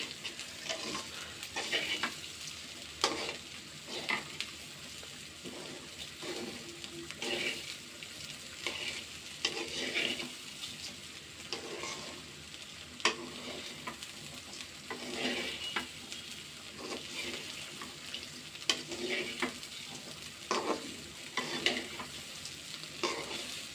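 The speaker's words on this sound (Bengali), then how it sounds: "চাউলটা ভালো করে ভেজে নিব, সুন্দর করে ঝরঝরা হবে চাউল ভাজতে" Rice grains being dry-fried and stirred in a karai for chicken and lentil khichuri, with a steady soft sizzle and repeated scraping stirs of the spatula close up, no talking.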